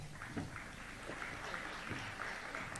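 Faint audience applause at a Tanzania–Russia economic cooperation and investment forum, a soft, steady patter of clapping heard from a distance.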